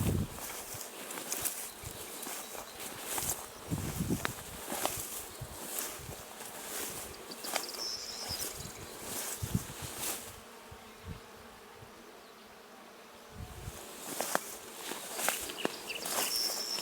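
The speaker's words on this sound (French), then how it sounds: "je vous laisserai entendre les abeilles" Bees buzzing outdoors, a steady insect drone with faint rustling and occasional soft steps, fairly quiet and continuous.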